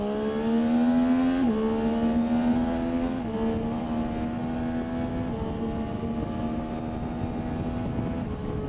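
A Triumph Tiger Sport 800 motorcycle accelerates hard through the gears, its engine note rising steadily and dropping briefly at each of several quick upshifts, heard up close over constant wind rush.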